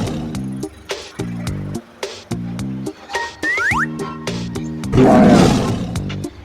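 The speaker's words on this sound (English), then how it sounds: "tiger." A cartoon tiger in an animal animation lets out one loud, rough roar near the end, rising over bouncy, looping music with plinking notes and a brief whistle-like swoop earlier.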